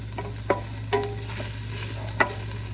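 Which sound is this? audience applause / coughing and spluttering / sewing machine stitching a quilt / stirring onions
stirring onions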